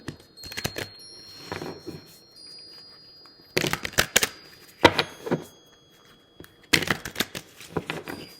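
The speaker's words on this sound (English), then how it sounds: "Give these a real good ruffle shuffle." A deck of cards is ruffle shuffled for a tarot-style reading, giving several close, crisp bursts of rapid riffling flutter separated by quieter pauses of handling.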